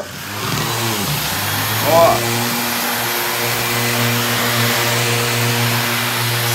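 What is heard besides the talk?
random orbital sander with vacuum sanding polished concrete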